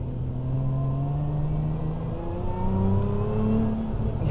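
A Lotus Emira V6 accelerates on a small road, its engine note rising steadily in pitch with a smooth, continuous loud drone heard from inside the car.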